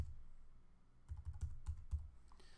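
Keys tapped on a computer keyboard while editing in Final Cut Pro X: after a quiet pause, a short burst of several soft, close clicks in uneven rhythm.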